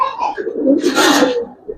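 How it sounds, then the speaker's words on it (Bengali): A male red muscle-tail pigeon gives a short, close coo, a soft throaty murmur lasting about a second with a brief breathy burst in the middle. "এটা একটা নর কবুতর"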